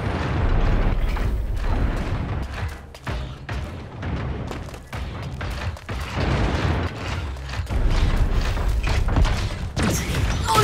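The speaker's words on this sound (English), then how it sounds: "Shots heard." Loud booming shots and bursts echo in a mobile battle royale looter-shooter, heavy impacts arriving in irregular clusters across the whole stretch with little pause.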